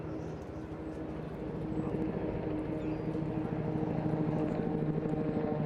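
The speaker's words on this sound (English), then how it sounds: "as they also hold formation abeam that very large helicopter" A large twin-rotor Chinook helicopter flying in formation with aerobatic planes at the Eastbourne International Airshow, a steady rhythmic rotor thud with engine drone that grows slightly louder, heard from a distance without speech.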